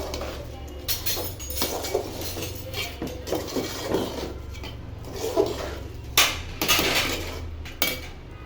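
Rice being stirred into nearly cooked vegetables in a cooking pot for khichuri: repeated scraping and clinking of a utensil against the metal pot, uneven strokes with sharper knocks, close up, over a low background hum.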